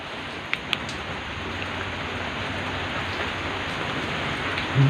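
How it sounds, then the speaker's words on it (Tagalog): Steady heavy rain pouring down in a public cemetery, a dense close hiss with a couple of faint clicks, no voices. "Lakas ng ulan"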